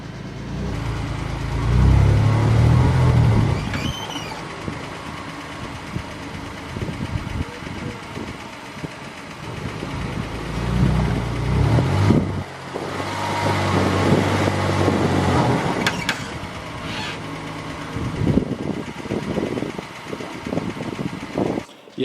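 A wrecked BMW M2 Competition with no coolant and a front wheel knocked about 30 degrees left runs roughly, its uneven engine note lumpy and sputtering with heavier bursts, all under gusts of wind buffeting the microphone.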